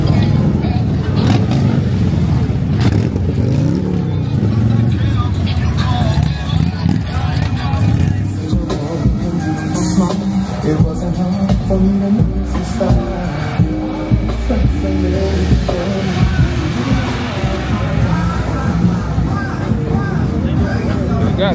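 Motorcycles rev and roar at a crowded outdoor bike night in Ellenwood, with loud engine noise, revving bursts and a tire squeal over constant crowd chatter and people talking nearby.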